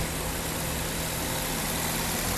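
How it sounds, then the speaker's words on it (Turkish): A car engine idling during a coolant change, a steady low rumble with a faint hum, constant and close with no voices. "arabayı bir çalıştıralım Rolanti'de"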